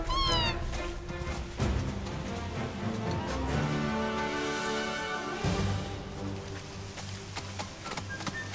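Repeated, drawn-out cat meows from the video game Final Fantasy VII Rebirth, loud and close, rising and falling across several seconds over a steady game soundscape.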